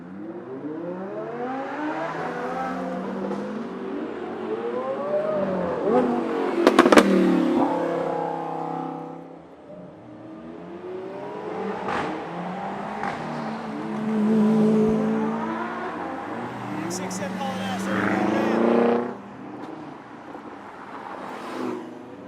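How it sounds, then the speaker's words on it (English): A McLaren 675 LT on a racetrack roars through repeated rising revs and gear changes, its exhaust crackling and popping sharply on the overrun, loud and close with several separate acceleration bursts. "675 LT, popping back."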